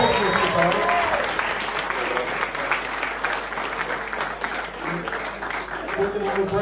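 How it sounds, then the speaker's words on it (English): Audience applause at a Red Special guitar meetup, a dense round of clapping filling the room for a guitar demonstration, steady and loud throughout with some voices mixed in near the start. "Can we have another big round of applause for Luke Timmins for demoing some powerful guitars"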